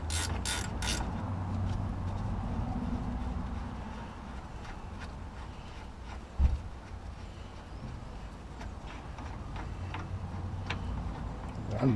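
A ratchet works loose the brake caliper bolts during a brake pad change, giving a steady run of fast mechanical ticks and clicks over a dull background rumble, with one sharper knock partway through.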